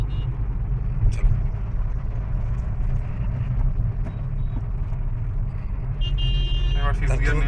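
A car driving along with a steady low engine rumble and road noise as the driver shifts into fifth gear, with a brief change in tone near the end.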